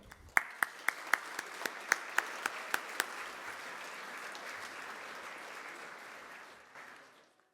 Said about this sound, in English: We ask that those individuals rise so we can applaud them.